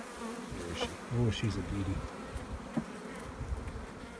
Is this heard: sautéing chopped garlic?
no